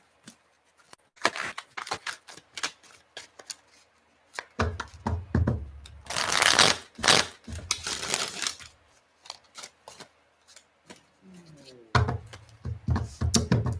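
Tarot cards are shuffled repeatedly in quick riffling bursts and taps, with occasional soft knocks as the deck is squared, close and fairly quiet, with no talking.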